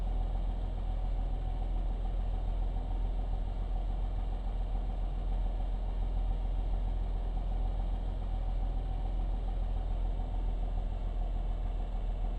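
A steady, droning aircraft engine hums at low power while taxiing in the Coastline Flight Simulator game, holding a constant loud tone throughout with no talking.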